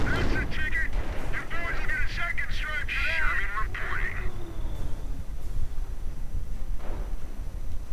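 A grenade bursts amid crackling gunfire in a WWII strategy game, short sharp blasts and bursts early on, while a commentator talks over the battle sounds.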